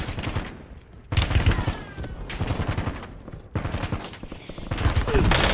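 Video game gunfire in loud, close volleys of rapid automatic shots, broken by short gaps and starting again several times.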